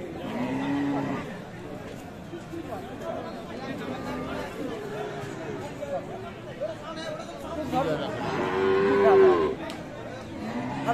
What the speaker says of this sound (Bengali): 7 দাঁত বয়সে গাভী।